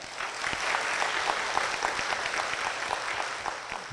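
A church congregation applauds as a deaconess is welcomed to the front, a steady patter of many hands clapping with distinct individual claps, moderately quiet and continuous with no talk over it.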